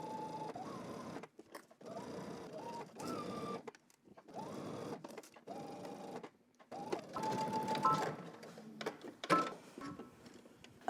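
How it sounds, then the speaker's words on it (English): A sewing machine stitches a seam in several short bursts of rapid mechanical stitching, separated by brief pauses, fairly quiet and close. "So now I'm gonna head to my sewing machine and I'm gonna stitch"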